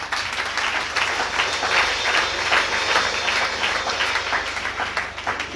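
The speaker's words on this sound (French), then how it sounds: "On applaudit bon Dieu." A church congregation breaks into sustained applause during a pastor's sermon, a dense steady roar of many hands clapping that fills the whole stretch without letting up.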